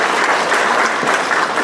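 Loud, dense applause from a large audience at an agriculture trade fair, steady clapping throughout a brief moment.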